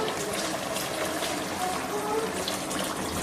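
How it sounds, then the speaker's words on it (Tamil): Water is poured into a cooking pot while vegetable biryani is made at home, giving a steady, continuous trickling and splashing wash at moderate level for the whole stretch. "இப்போ இதுக்கு தகுந்த அளவு தண்ணி நம்ம சேர்த்துக்கலாம்."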